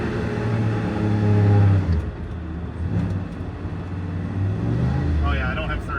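A car engine drones under hard, full-throttle acceleration and holds one steady rising pitch without a gear change. Someone talks over the engine noise close by.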